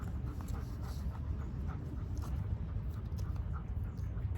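Dogs panting in a park, a steady, close rhythmic huffing of quick breaths continuing throughout with faint outdoor background noise.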